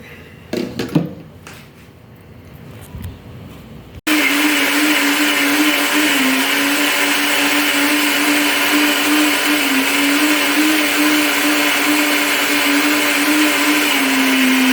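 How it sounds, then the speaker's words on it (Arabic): A blender starts up after a few seconds of faint clatter and then runs steadily and loudly, its motor whirring on as it blends beetroot juice. "العصير تاعنا رانا طحناه"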